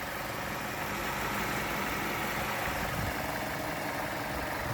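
A 2006 Mazda6 2.0 petrol engine idles steadily, a constant broadband rumble and hiss with no change in pitch and no voices over it.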